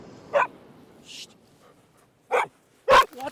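A dog barks in a few sharp, separate bursts spread across a few seconds, with quiet gaps between them and no speech.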